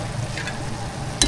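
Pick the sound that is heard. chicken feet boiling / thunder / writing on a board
chicken feet boiling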